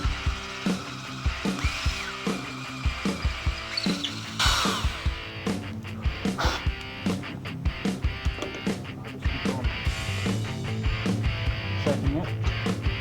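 A drill bores with a half-inch twist bit through a Forstner-bit hole while making a homemade carbide lathe tool, giving a grinding whir broken by repeated sharp clicks and knocks, close and busy throughout.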